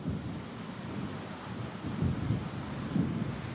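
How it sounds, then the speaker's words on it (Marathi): A thunderstorm with heavy rain in Nagpur gives a steady, fairly faint wash of rain noise with low rumbling swells, growing heavier toward the end. "नागपूरमध्ये देखील जोरदार पाऊस पडलाय।"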